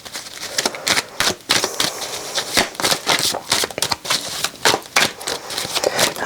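Tarot cards shuffled by hand in a steady run of crisp, rapid riffling snaps and flutters, close and fairly loud, with no talking.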